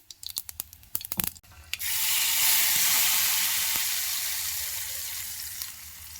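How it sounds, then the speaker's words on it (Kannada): Hot garlic tempering poured into a Malnad-style ripe mango curry, a loud sustained sizzle and hiss after a few sharp clinks, fading slowly toward the end, with no talk. "ಇವಾಗ ಬೆಳ್ಳುಳ್ಳಿ ತುಂಬ ಚೆನ್ನಾಗೇ ಕಾದಿದೆ ಇದನ್ನು ಇಳಿಸ್ಕೊಂಡು ಸಾರಿಗೆ ಹಾಕ್ಕೊಳ್ತೀನಿ"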